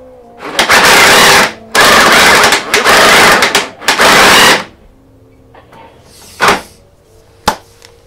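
A drill motor driving a homemade coupling in a force-feedback sim wheel rig slips under too much torque, giving loud rattling bursts that stop and start, then a couple of isolated knocks.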